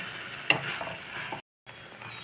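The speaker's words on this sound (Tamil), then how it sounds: "இப்போ கொஞ்சம் நேரம் கொஞ்சம் நேரம் வதக்கி எண்ணெய் பிரிஞ்சு வர அளவுக்கு வதக்கிக்கலாம்" Coriander thokku paste sautéing in oil makes a soft, steady sizzle close by, with one sharp tap of a spoon. The sound cuts out briefly, then the sizzle resumes.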